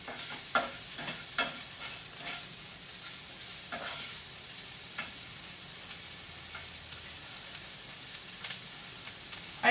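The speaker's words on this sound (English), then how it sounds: "So put our garlic in. Add our jalapenos. Get those cooking for just a little bit." Garlic and jalapenos sizzle steadily in a frying pan, a soft continuous crackle with scattered sharper pops and occasional stirring clicks, no voices.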